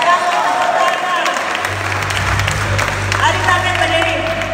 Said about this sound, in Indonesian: Kamu tepuk tangan.